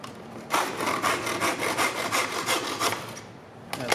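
Hand saw cutting a wooden spindle insert for a Mission-style table, a steady back-and-forth rhythm of about ten close, rasping strokes that stops near the end, followed by a brief tap.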